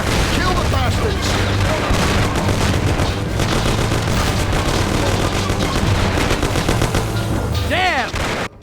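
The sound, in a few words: gunfire in Mafia: The City of Lost Heaven video game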